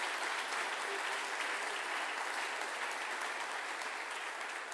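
A church congregation applauds steadily during a worship service, a dense, even patter of many hands clapping throughout without letup.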